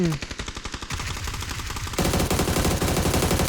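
Rapid automatic gunfire in PUBG, shots aimed at a moving car, bursts loud and close and running continuously, growing denser and louder toward the end.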